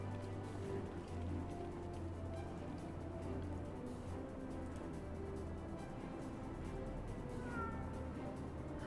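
A cat meows in a video game, a soft, low-level call set against steady ambient game background, with no one talking over it.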